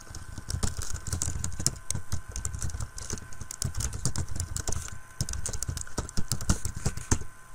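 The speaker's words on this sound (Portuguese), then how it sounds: "então vamos digitar" Rapid, irregular keystrokes on a computer keyboard as an email address and password are entered, a steady close-up clatter of key taps with brief pauses, over a faint background hum and no talking.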